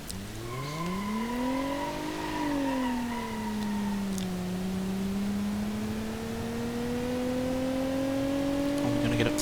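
A bright orange 2.7 ZX car drives in BeamNG.drive, its engine droning steadily and rising and falling in pitch as it accelerates, while someone talks over it.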